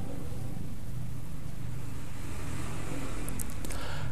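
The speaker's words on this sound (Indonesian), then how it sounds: "Jadi cuma aku sendiri yang menjalankan traktornya." A tractor engine drones steadily and fairly loudly while ploughing a rice field. The running noise stays constant throughout with no pauses, and a few faint higher clicks come in near the end.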